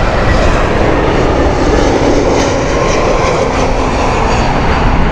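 A Lufthansa airliner's engines roar loud and steady at Heathrow in heavy wind, a broad unbroken rumble running the whole time with no talk.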